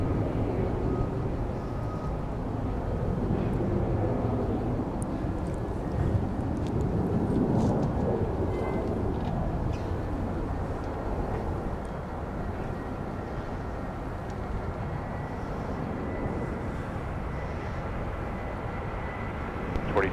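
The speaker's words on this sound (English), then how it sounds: "Clear for takeoff" An airliner taking off from a runway at Minneapolis–Saint Paul airport, heard as a broad distant engine roar that swells and then slowly fades, with wind rumble against the microphone.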